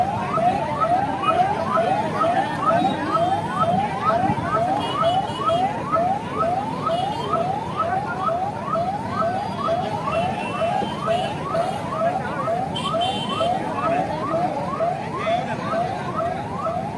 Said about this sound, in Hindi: आप देखिए किस प्रकार से एम्बुलेंस निकल रही है